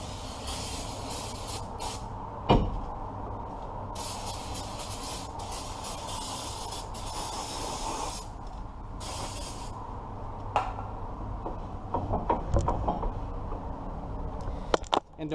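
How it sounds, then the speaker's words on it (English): Brake cleaner sprays in long hissing bursts onto the brake rotor of a Ford Escape, with short pauses and a few clanks from nearby work, close and fairly loud. "One more spray with the brake cleaner,"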